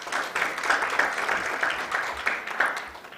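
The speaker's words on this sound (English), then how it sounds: "Once more, a big round of applause to him," Audience at an information and communication rights conference in Africa applauding, a steady even patter of many hands clapping throughout, moderately loud and continuous.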